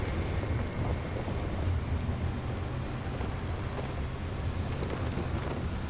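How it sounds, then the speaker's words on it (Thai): A roaring storm in the driving game Pacific Drive: dense, steady wind rush with low rumbling thunder running continuously at loud level, no voices. "โอ้โหพายุเร็วมากพายุโคตรเร็วเลย"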